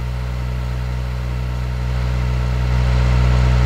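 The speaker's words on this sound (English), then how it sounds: "Now let's start the engine." Simulated car engine idling in Electude training software, a steady low hum with constant tonal drone that swells slightly louder toward the end, no voices.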